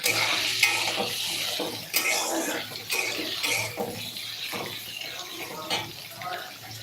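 Onions with ginger and green chilli frying in a pan while being stirred, with a steady close sizzle broken by repeated scraping strokes of the spoon.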